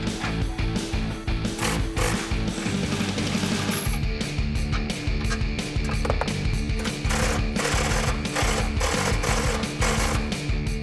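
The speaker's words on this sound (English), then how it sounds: "we were actually able to use my cordless impact for this last one" A cordless impact wrench hammers loose a front bumper bolt on a 2013-2018 Ram truck, a loud, continuous rattling burst of rapid impacts that briefly pauses near four seconds and then resumes.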